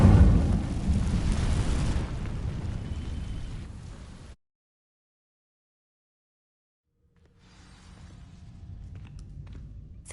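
A fire spell cast in the Hogwarts Legacy video game: a loud roaring, crackling burst that fades out into a few seconds of silence before low rumbling game ambience returns.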